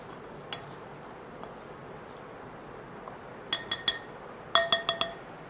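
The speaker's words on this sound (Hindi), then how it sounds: "इसको अच्छी तरह मिक्स कर लेंगे मैदे को, ताकि इसमें नमक मिक्स हो सके" Maida flour and salt stirred together in a bowl for a fried chicken coating; quiet scraping gives way to a cluster of sharp, close clinks of a utensil against the bowl near the end.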